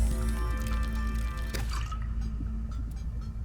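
Crafting water in Subnautica Below Zero: a short liquid drip-and-fill effect over a steady background hum, ending in a few soft drops, with no talk.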